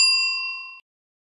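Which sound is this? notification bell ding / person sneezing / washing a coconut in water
notification bell ding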